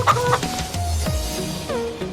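Short chicken and rooster clucks and bird-like calls in quick succession from Farming Simulator 25, with a synthetic, game-like quality and no talking.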